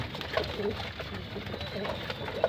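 Pigeons coo softly in low, throaty warbles amid a busy background murmur, the calls repeating close by.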